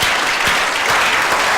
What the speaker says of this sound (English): Now let's clap for that.